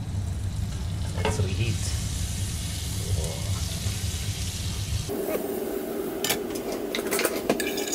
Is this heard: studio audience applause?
no